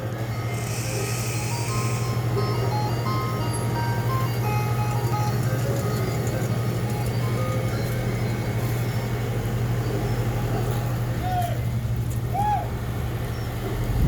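An ice cream truck's jingle plays near a roadside tow scene at a two-vehicle collision, a steady tonal melody over a constant idling engine hum, with people talking faintly underneath.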